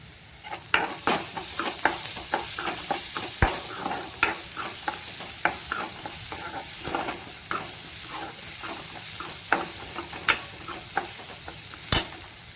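Onions frying in oil with chana dal in a pan, stirred steadily: a constant sizzle under repeated scraping strokes of a spoon, with sharper clinks of metal against the pan at irregular moments.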